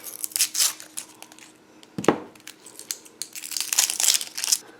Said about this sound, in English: peel off the outer layer